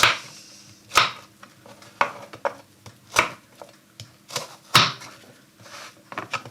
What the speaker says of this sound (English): So I want to slice it more or less down the middle, and then off we go.